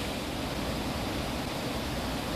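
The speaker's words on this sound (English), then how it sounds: "And there's the waterfall" A waterfall in cold, foggy December weather, heard as a constant broadband roar of falling water, steady and unbroken, with no voices.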